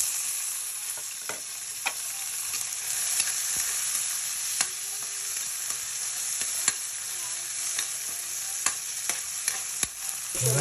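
Tomatoes frying in a pan give a steady, bright sizzle throughout, broken by scattered light clicks and taps from stirring, fairly close and with no voices.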